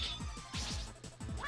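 A fire slash sword attack in Mega Man 8, heard as a quick cluster of soft, repeated sweeping zaps and crackling bursts, faint and brief over the game's background.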